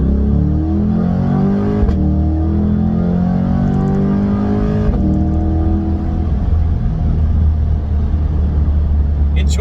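A 2020 C8 Corvette convertible with the Z51 package delivers a loud, steady engine drone while driving, with the pitch climbing and shifting through gears in a continuous close-up cabin rumble.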